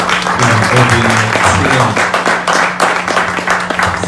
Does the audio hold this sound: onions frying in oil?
no